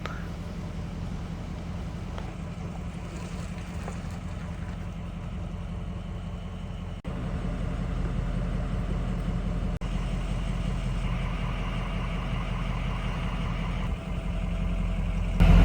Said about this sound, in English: Just letting some cars pass by.